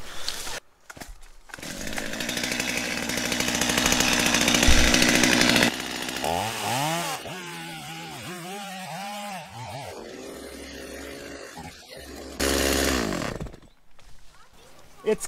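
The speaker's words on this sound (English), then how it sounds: "I couldn't get the chainsaw to work" A chainsaw is pulled and sputters, revving loudly in bursts with uneven engine warbles, then cuts out and restarts briefly near the end, outdoors beside a tree to be cut from the top down.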